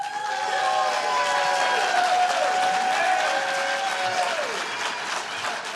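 Sustained applause from a sizable crowd at a public servants' merit awards ceremony, steady and even throughout, with a faint high ringing tone drifting in the background.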